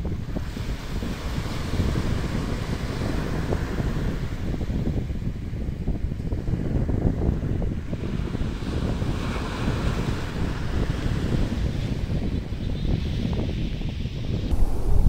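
Sea waves washing ashore with strong wind buffeting the microphone on an Antalya seaside in February, a continuous loud roar of surf and gusts.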